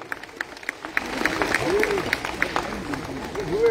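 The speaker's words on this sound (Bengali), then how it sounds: "একটু জোরে করতালি দিয়ে স্বাগত জানাই" A crowd applauds at a welcome ceremony for an athletic club dignitary, the clapping starting faint and building into a steady patter.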